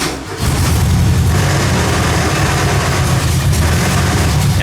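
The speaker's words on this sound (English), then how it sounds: "That's that fan chattering." A Volkswagen Beetle engine runs at a steady idle with a broken cooling fan chattering, giving a continuous loud low rumble with a rapid rattling texture that holds nearly unchanged throughout.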